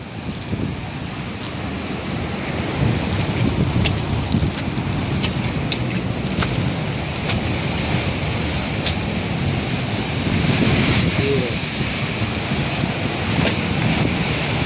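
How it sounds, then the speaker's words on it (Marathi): Sea surf and strong wind on a rocky shore of black, slippery, moss-covered stone, a steady loud wash of waves with wind buffeting the microphone throughout. "समुद्राची कंडिशन बघू शकता तुम्ही"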